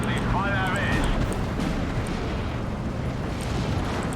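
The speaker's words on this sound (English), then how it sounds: "the artillery is not killing much, but suppressing much" Artillery barrage in the Steel Division II World War II strategy game, heard as a steady dense rumble of distant booms and blasts continuing throughout, with a whistling shell sound early on.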